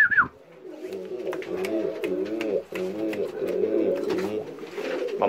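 Pigeons in a breeding loft coo steadily nearby, a repeated low rolling warble with brief clicks and shuffles, heard alone without talk.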